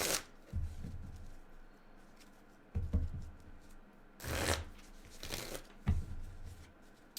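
A deck of Magic: The Gathering cards is shuffled by hand, close up, in several distinct riffling bursts separated by short pauses, with soft handling noises between.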